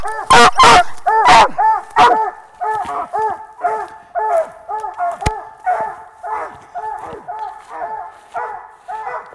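Squirrel dog barking at a tree during a hunting competition, a long run of loud, rhythmic, repeated barks close by, a few sharp noises near the start, and no talk over it.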